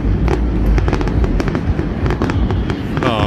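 Fourth of July fireworks finale, a dense barrage of rapid overlapping bangs and crackles rolling continuously at close range, loud throughout with no pauses.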